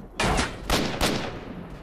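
Gunfire from an inaccurate gun in S.T.A.L.K.E.R.: Shadow of Chernobyl, three sharp close shots in quick succession, each with a brief echoing tail.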